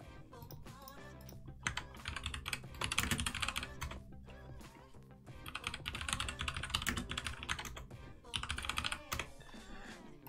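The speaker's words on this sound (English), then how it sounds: "I'm typing it in the chat because I know some of you won't see it" Rapid typing on a computer keyboard in bursts of clattering keystrokes, close and fairly loud, with brief pauses between runs and no talk.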